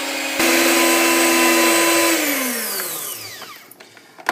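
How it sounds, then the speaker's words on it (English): A mixer or blender whirs steadily through a flour and water paste for tangzhong soft bread, a loud continuous motor drone that winds down and fades after about two seconds, followed by faint clinks. "we'll mix that until it's got no lumps and it's all looking very smooth"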